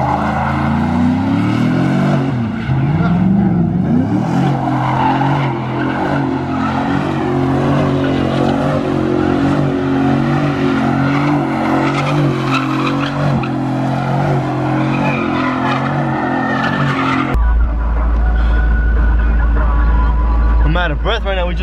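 Cars at a street takeover rev and skid with long tire squeals and droning engines, loud and continuous, while people talk and shout over the noise; wind rumble takes over near the end.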